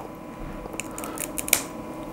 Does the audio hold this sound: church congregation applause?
no